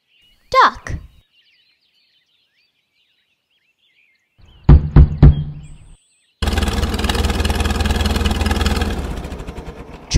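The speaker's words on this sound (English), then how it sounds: "Tractor." A farm tractor engine starts after a short burst of knocking, then runs with a steady, fairly loud rumbling idle for several seconds, heard alone.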